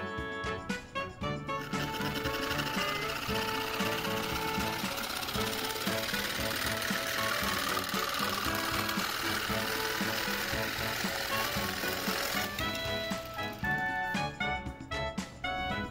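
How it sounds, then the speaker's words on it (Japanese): A power saw cuts a sliding board for a vent fan in a Daihatsu Hijet Cargo mini van, a steady, loud buzzing cut lasting about ten seconds with brief stops before and after. "ある程度位置が決まったので真ん中のスライドさせる板を短く切っていきます。"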